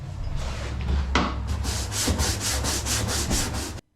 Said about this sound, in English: the power brush was definitely an important part of this process